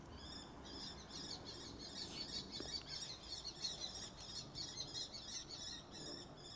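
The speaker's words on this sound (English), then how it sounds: "Can you hear them birds?" Several birds chirp and tweet in quick repeated calls outside an abandoned church in Greece, against a quiet outdoor background, steady and moderately distant throughout.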